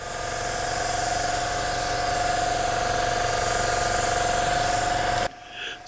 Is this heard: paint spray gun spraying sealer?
yes